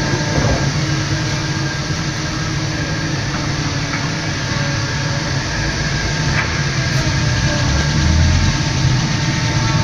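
A second-hand Suzuki Gixxer single-cylinder motorcycle engine runs steadily at idle, a loud, close, continuous low rumble with no voices over it.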